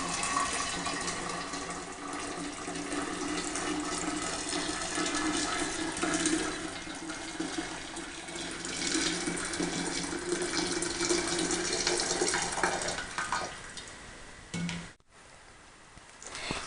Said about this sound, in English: we're going to warm the jar by partially filling it with hot water